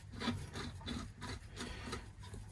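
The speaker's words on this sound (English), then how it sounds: "I might just quickly nip out this axle." A wrench works the axle out of a 1980s Raleigh bicycle wheel hub, giving a close, dry rasping and grinding in repeated short strokes with no talking.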